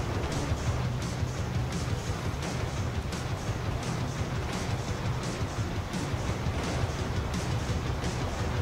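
Train carriages rolling along the track in the video game GTA V, a steady, dense rumble with faint rhythmic clatter, continuous and fairly close throughout with no talking.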